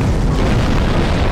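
Repeated bomb blasts in Garry's Mod merge into one sustained, booming rumble, loud and unbroken across the brief span with no talking.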